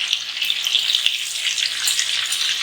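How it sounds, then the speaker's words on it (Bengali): Butter goes into a pan of hot white cooking oil on a lowered gas flame, giving a steady, close, fairly loud crackling sizzle with a dense hiss throughout and no voices. "এবার আমি গ্যাসটাকে কমিয়ে এর ভেতরে আমি 50 গ্রাম বাটার দিয়ে দিচ্ছি।"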